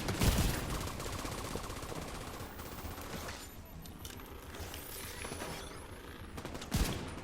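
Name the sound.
gunfire in a video game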